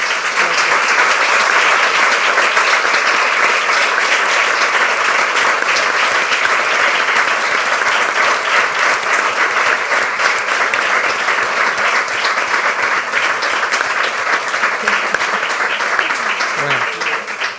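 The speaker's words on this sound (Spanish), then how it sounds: "Pues por favor, un aplauso muy fuerte." At a book presentation on team coaching, an audience gives loud, continuous applause, an even wash of many hands clapping that holds steady for the full span before tapering at the very end.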